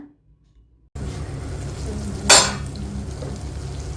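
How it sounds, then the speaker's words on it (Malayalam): Tomatoes sautéing in a pan for an idli-dosa chammanthi, a soft steady frying hiss that starts after a near-silent second, with one sharp scrape or clink of a utensil midway. "ഇനി തക്കാളിയും കൂടിയും ചേർത്തിട്ട് വഴറ്റുക"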